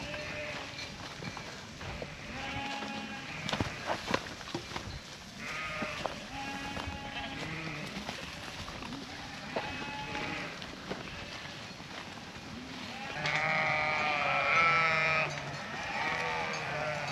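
Sheep bleat repeatedly on a hillside at dusk, with some of the flock wearing GPS collars; several harmonic bleats overlap at moderate distance, with hoof clatter and a louder cluster of calls near the end.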